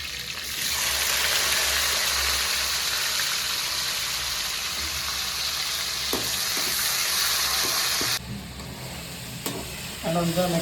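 Cumin seeds dropped into hot oil give a loud, steady sizzle that holds for several seconds, then cuts off sharply, with a few clinks and stirring noises close by in a home kitchen.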